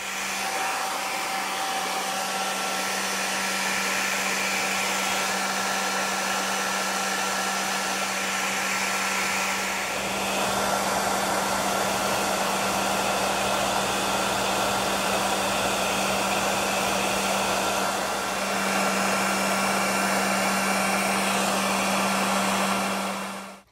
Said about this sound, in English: I'm going to go ahead and take a blow dryer and just dry this off real good